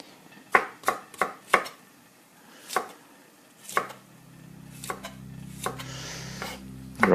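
Broccoli florets being cut on a board produce a series of crisp knife chops, several quick strikes followed by slower spaced ones, close and distinct, with a low background hum toward the end.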